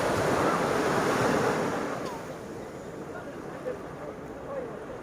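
Ocean waves wash onto Port Launay beach in the Seychelles, a broad continuous roar of surf with wind buffeting the microphone, louder at first and then settling to a steadier wash.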